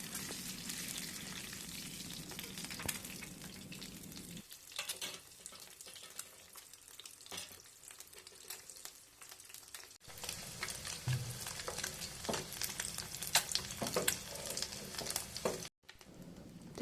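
An egg fries in oil over a low flame, giving a soft, steady sizzle with faint crackles and some stirring noise. The sizzle drops out for a few seconds in the middle and then returns.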